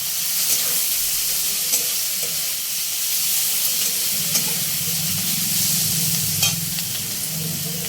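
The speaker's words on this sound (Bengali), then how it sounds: "এখন ক্যাপসিকাম কুচানো দিয়ে দেবো। দিয়ে আবার একটু ভালো করে ভেজে দেবো।" Chopped capsicum and softened tomato frying in a pan for Chinese-style noodles, a steady close sizzle and hiss with occasional stirring scrapes throughout.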